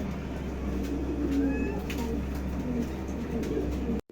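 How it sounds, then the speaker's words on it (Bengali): A pair of Modena pigeons coo softly at close range, with low, rounded calls repeating over a steady background hum. "চমৎকার একজোড়া কবুতর, দেখতে খুবই সুন্দর"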